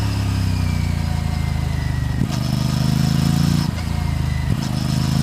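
An Aprilia RS 457 motorcycle runs close by with its exhaust rumbling steadily and loudly. The engine note dips briefly a few times with sharp crackly pops, and no one talks over it.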